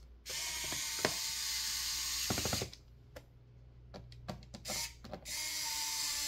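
Screws being driven back into a laptop's bottom cover, a fast ratcheting screwdriver clicking in bursts with pauses between, close and fairly quiet with no talk.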